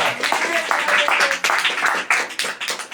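Congregation applauding strongly in a church, a dense wash of many hands clapping steadily for the full stretch at close range, loud and continuous.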